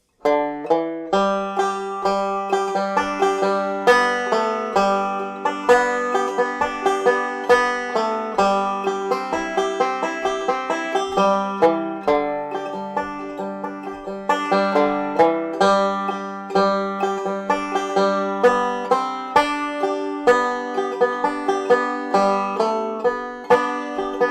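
A bright plucked bluegrass banjo melody with quick rolling fills between the notes, steady and continuous, played up close without any voice.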